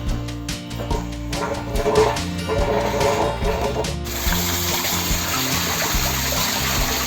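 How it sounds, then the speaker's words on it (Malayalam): A mechanical pump rattles and whirs, then a loud rush of drinking water gushes steadily through a hose into a tank, close and continuous. "നമ്മളിതിനകത്ത് വെള്ളം അടിക്കുവാണ്"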